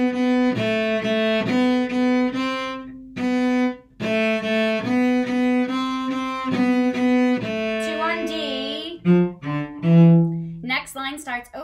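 Cello bowing the first line of a piece as a lesson demonstration, a run of short detached notes in a steady rhythm, close and clear, with a few brief pauses and some scratchier notes near the end.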